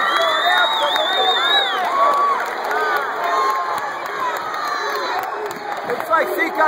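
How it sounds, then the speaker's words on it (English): A crowd at a varsity high school basketball game between Seekonk and DR, played during a blizzard, keeps up loud cheering, shouting and whoops in the tense final seconds of a tied game, with voices rising and falling throughout. "the crowd is going wild"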